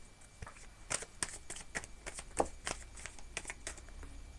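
Tarot cards being shuffled close by, a quick run of soft papery riffles and taps in an uneven rhythm, fairly quiet, with no talk.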